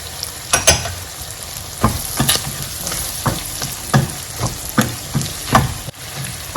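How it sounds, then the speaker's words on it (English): Chopped carrots dropped into hot oil for a vegetable tomato sauce, sizzling steadily while a spoon scrapes and stirs in repeated clicks and taps, close and clear with no voices. "I'll go ahead and add my chopped carrots."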